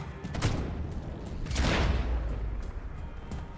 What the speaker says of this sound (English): Gunfire over Hoboken.